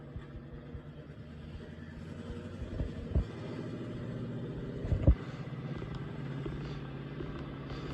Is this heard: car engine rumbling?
yes